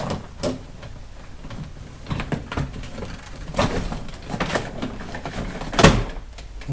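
A door panel on a C4 Corvette is lifted off its ledge after the screws come out, producing a run of scattered plastic clicks, knocks and scraping rattles, with a sharper snap near the end.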